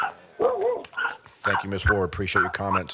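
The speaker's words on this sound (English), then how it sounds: "Sorry for the dog in the background." A dog yips and barks a few times in the background, short sharp calls heard around and under a person speaking at a county commissioners' meeting.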